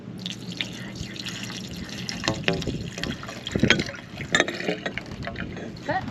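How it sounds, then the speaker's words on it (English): Bleach pours and splashes into a boat's water tank nearby, gurgling and dripping unevenly with occasional louder glugs. "pouring bleach into a water tank"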